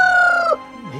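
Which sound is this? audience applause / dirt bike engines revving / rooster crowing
rooster crowing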